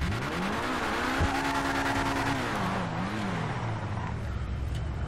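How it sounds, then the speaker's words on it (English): A car launches in the GTA 5 video game, its engine revving hard with the pitch climbing and wavering while the tires squeal under a continuous loud roar. "Hang on, I gotta do a couple launches."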